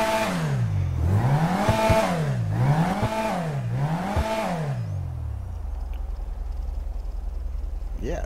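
A Grotti Brioso RA car engine in GTA Online revs up and down four times in a rising-and-falling pattern, loud and close, then settles to a low steady idle.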